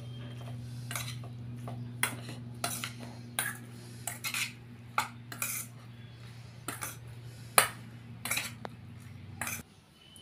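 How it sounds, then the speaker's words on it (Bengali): A spoon stirs salt into soya chilli sauce in a metal bowl, scraping and clinking against the sides in an irregular series of sharp taps and clanks, with a steady low hum running beneath through most of it. "এবার লবণটা আমি মিশিয়ে নিচ্ছি।"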